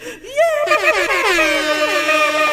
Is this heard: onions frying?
no